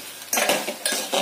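A utensil clinks and scrapes against a pot as prawns are stirred once the lid comes off. There are a few quick metallic strokes, heard close up, with no one talking.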